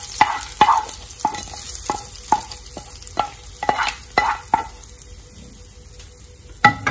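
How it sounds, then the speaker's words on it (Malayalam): Tempering oil poured and stirred into snake gourd pacha theeyal, giving a series of sharp sizzling bursts and clinks at a steady rhythm, close and fairly loud, with a final burst at the end and no talk. "ഇതെല്ലാം കൂടി ചേർത്ത് നമുക്ക് പച്ചത്തീരിലേക്ക് താളിച്ചെണ്ണ ഒഴിച്ചു കൊടുക്കാം."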